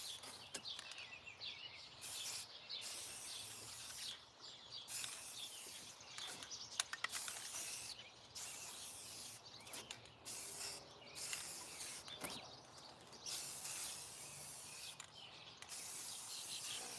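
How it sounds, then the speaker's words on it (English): Aerosol spray paint hisses in a series of short and longer bursts while lines are marked out on the ground, close and moderately loud, with brief pauses between sprays and no talking. "So I'm gonna use spray paint to sort of like map this out."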